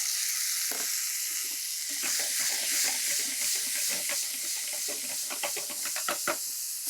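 Garlic, mustard seeds and dried red chillies fry in hot oil as a tempering for a tomato ghee dal, giving a steady close sizzle peppered with sharp popping crackles throughout, with no talking.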